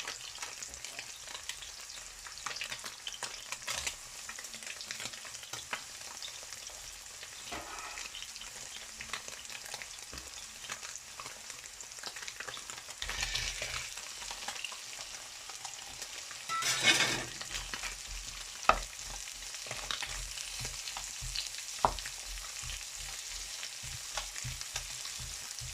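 Garlic and onions sizzle steadily in a hot pan for spicy devil sausage, a continuous broadband hiss with a brief louder flare midway and a few sharp utensil clicks, with no talking.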